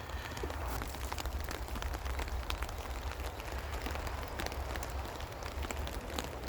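Heavy rain falls at a roadside camp spot, a steady close patter with sharp individual drops ticking on nearby surfaces over a continuous wash.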